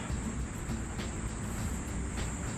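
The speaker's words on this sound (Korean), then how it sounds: "매미 소리가 아직 나고요." A steady, high-pitched cicada drone fills the air without a break near a royal tomb walking trail, with faint rhythmic pulses and a low rumble of background noise underneath.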